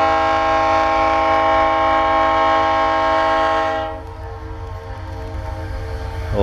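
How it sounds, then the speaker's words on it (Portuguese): A loud, sustained Dash 9 diesel locomotive horn blares for about four seconds on a train descending a grade in Minas Gerais, Brazil, then cuts off, leaving its echo and rumbling train noise behind. "Ó, o eco que deu a buzina."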